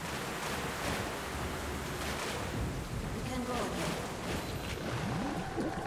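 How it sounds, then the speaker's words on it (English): Wind blows in the Metro: Last Light video game as a continuous, fairly loud rushing roar with gusty swells that hold steady throughout. "It's windy."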